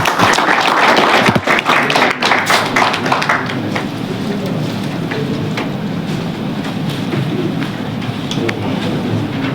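A crowd at a ceremony of NAREDCO Karad, a builders' association, claps loudly for its newly installed president; the dense clapping is strongest at first and then settles into a steady, slightly softer patter that lasts throughout.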